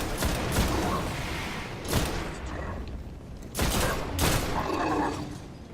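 A precise, slow-firing rifle in the video game Destiny, shooting several loud, sharp shots spaced a couple of seconds apart, each followed by a reverberant tail over game ambience, with some speech mixed in.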